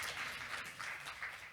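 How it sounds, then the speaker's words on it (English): An audience at a public health policy conference panel claps in a short, faint burst of steady applause that fades quickly. "Applause from you."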